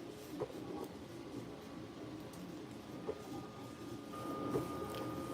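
A FlyingBear Ghost6 3D printer runs with a steady mechanical hum, joined by faint stepper whine and a few soft clicks and taps, heard fairly close with no talking.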